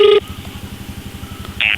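Quick touch-tone keypad beeps start and end a short burst of phone dialing, with a faint, rhythmic low pulsing underneath, as a call is placed to someone who owes money.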